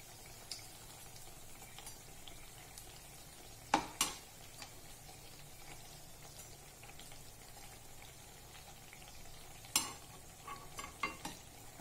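Bread and cream biscuit sweet frying in a pan over low gas: a steady, soft sizzle runs throughout, with a few sharp clinks of a utensil against the pan.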